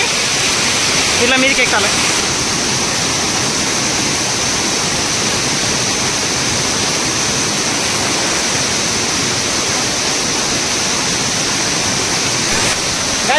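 Kusrampalli waterfall on the Telangana-Karnataka border roars steadily and loudly nearby, a constant broadband rush of falling water, while someone briefly speaks over it.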